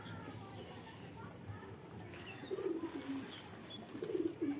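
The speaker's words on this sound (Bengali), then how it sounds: "ওই পায়রাটা নামছে না, ওই যে ও খেতে নামছে না, ডাকাডাকি করছে" Pet pigeons and visiting green pigeons gather to feed at a house, cooing in low, repeated bursts that swell louder toward the end over a murmur of background noise.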